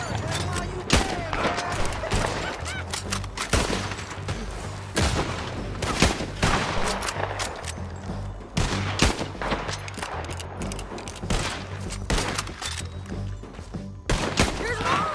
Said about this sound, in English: Keep firing while you can,